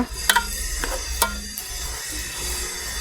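Onions stir and fry in oil in a pan, a steady sizzle broken by a few sharp scrapes of the utensil near the start, close and clear with no talking.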